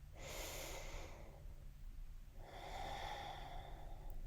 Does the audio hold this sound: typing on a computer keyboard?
no